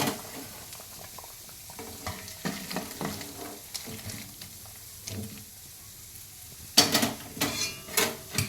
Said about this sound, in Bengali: দেখো বন্ধুরা, তরকারিটা ফুটে উঠেছে।